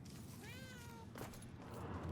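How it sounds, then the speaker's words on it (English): A cat meows once in the video game Murdered: Soul Suspect, a drawn-out wavering meow heard close and clear over a steady low background rumble. "Oh, it's a kitty!"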